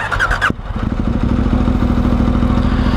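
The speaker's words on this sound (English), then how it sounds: "So now I'm going to ride the wash down there to the 210 while I tell this story." A motorcycle engine starts up after a short burst of other noise, then runs at a steady loud mid-pitched drone as the rider sets off down a wash, with no speech.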